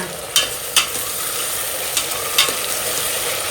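Onions for a kuzhambu sauté in a hot pan, a dense steady sizzle up close punctuated by four crisp spatula taps against the metal.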